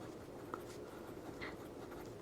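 Pen writing on paper while a math problem is worked out, heard as faint, soft scratching strokes against a quiet background hum.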